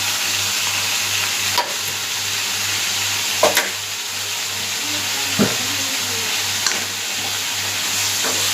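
Sliced radish sautéing in a pan for sambar, a steady loud sizzle with occasional scrapes and clinks of a spoon stirring, continuous and close with no talk.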